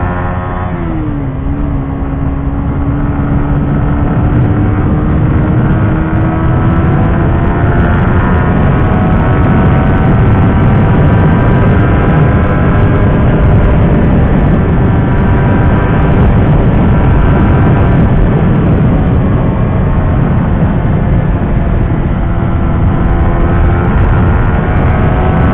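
A Suzuki GSX-R 150 fairing motorcycle from 2020 accelerates on the road, its engine note climbing and holding in a loud, continuous whine for a long stretch, with no talking.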